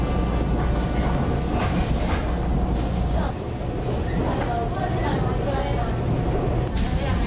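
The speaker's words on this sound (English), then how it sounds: "The train then takes this group of early birds from the countryside to the city." An early-morning passenger train runs from the countryside into Taipei, heard from inside as a steady, loud rumble with rhythmic clatter from the rails and a hint of wheel squeal, and faint voices underneath.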